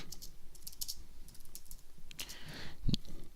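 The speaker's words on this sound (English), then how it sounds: "I type slow, so you guys are lucky there" Someone typing slowly on a computer keyboard, close up: irregular light clicks and key taps scattered through the clip with a slightly heavier keystroke near the end, and no voices.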